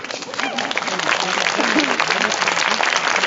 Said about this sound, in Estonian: Ohtra aplausi saatel